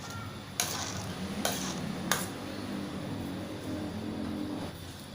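A pot of Thai southern-style turmeric mackerel soup is stirred with a utensil, giving three sharp clinks against the pot over a steady low rumble, with no talk.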